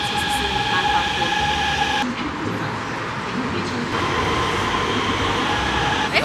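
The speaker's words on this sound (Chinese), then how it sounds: "然后搭这种像捷运这样的地铁站，其实是蛮方便" A metro train ride in Guangzhou, with a loud, steady rumble of the carriage in motion and rail noise all around, no voices standing out.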